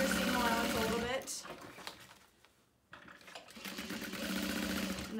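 A sewing machine stitches and backstitches along a make-up bag seam in steady mechanical bursts, pausing briefly midway before running again, close and fairly loud.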